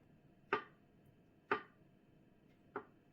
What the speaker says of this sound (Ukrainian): І нам залишилося порізати лише яйця.